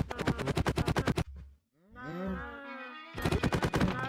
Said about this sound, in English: Having these cows indoors was never a good idea to begin with.